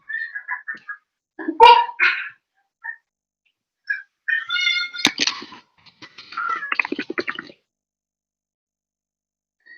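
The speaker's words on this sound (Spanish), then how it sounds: "El gato se está comiendo." A cat meows while eating, giving several short, close, tonal calls in irregular bursts separated by brief silences.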